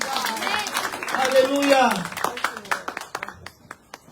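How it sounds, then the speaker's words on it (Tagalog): A church congregation claps together in praise, a warm burst of applause with a voice calling out over it before the clapping thins into scattered single claps and fades. "Ibigay po natin yung best na palakpak sa Diyos."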